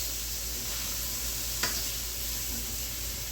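Diced potatoes fry in olive oil with a low, even hiss that holds steady throughout, broken once by a single sharp clink.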